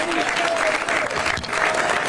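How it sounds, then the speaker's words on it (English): A crowd at a San Francisco city officials' event applauds a supervisor, loud, close clapping sustained throughout, with cheering voices mixed in the wash. "a big round of applause"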